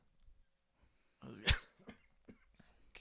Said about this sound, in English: I don't know what that cough was